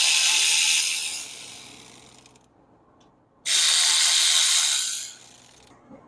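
A ratchet breaks loose brake caliper bolts during brake work on a car, giving two loud bursts of rapid clicking close by, each winding down, with a short quiet gap between.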